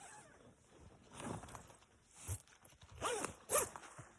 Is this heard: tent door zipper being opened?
yes